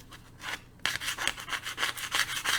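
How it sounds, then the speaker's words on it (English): A comic book surface is scraped delicately, like a lottery scratch sticker, with repeated rubbing strokes in a steady back-and-forth rhythm, close and fairly quiet, alone without talk. "I gotta approach this just very delicately, like kind of like one of those lottery scratch stickers, and just kind of scrape."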